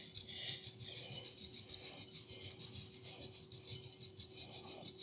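Parmesan cheese grated by hand over spaghetti carbonara: a continuous, close, raspy scraping with rhythmic strokes roughly every half second, steady and unaccompanied by talk.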